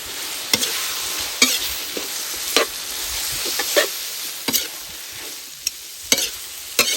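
Eggs are stirred into a dish frying in a pan, with a soft continuous sizzle under scattered sharp spatula scrapes and taps that come every second or so.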